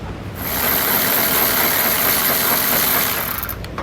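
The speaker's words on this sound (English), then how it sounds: "we can take our tool up in here, slide it onto our extension, and we can get that last bolt zipped out of there" A ratchet tool on an extension spinning out the last bolt while installing a Curt trailer hitch receiver: a continuous, loud buzzing mechanical whir lasting about three seconds, heard close and alone.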